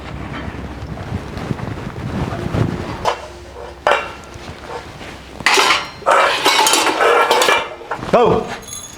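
Dishes and pots clatter and clank while being washed, loud irregular bursts of metal and crockery knocking together over gusty wind noise on the microphone.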